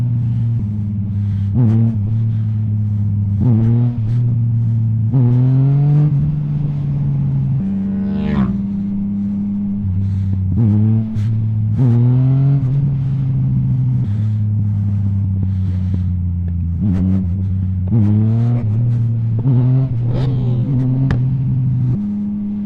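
A Yamaha MT-09 motorcycle engine revs hard over and over during wheelie attempts, the steady low drone rising in repeated sweeping bursts, loud and close with wind buffeting the microphone.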